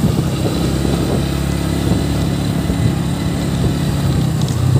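A motorcycle engine runs steadily nearby, a continuous low rumble with no breaks and no voices over it.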